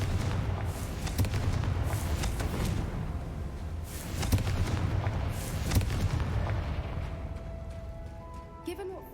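In the Hogwarts Legacy game, a Confringo fire spell explodes amid a constant rumbling, crackling roar, with several louder booming bursts throughout and the noise fading near the end.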